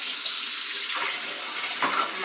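Tap water runs steadily over the tops of salmon cans held under a faucet at a sink, a close, continuous splashing hiss that shifts slightly as the cans move in the stream.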